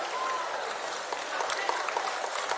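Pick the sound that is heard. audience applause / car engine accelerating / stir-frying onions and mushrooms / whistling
audience applause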